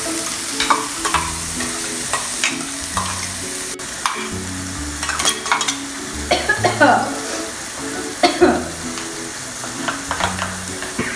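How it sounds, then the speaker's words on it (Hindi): Spices for misal sizzle and crackle in hot oil while a spoon stirs and scrapes the pan, with short bursts of frying noise throughout. "तड़का बहुत अच्छे से आया हुआ है।"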